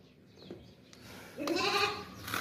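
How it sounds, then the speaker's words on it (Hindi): A large long-eared desi goat bleats close by, one drawn-out wavering call rising after a few soft rustles and clicks, loud and clear with no talk over it. "और लंबे कानों वाली बकरी है, देसी बड़ी बकरी है माशाल्लाह से।"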